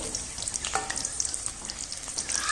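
Sabudana chips frying in oil over medium heat make a brief, moderate bubbling sizzle with light crackles and no talk.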